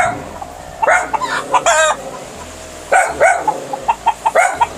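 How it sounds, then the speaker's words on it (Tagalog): Farm chickens kept at a rural housing site cluck repeatedly while a rooster crows loudly and nearby in several bursts, the calls rising over a steady low background hum with no talking. "May mga manok na alaga."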